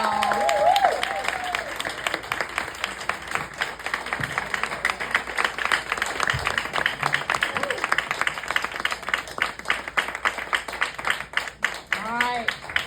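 An audience in a room claps and applauds at an event, a steady dense patter of hand claps running throughout, with a voice calling out over it near the start and again near the end.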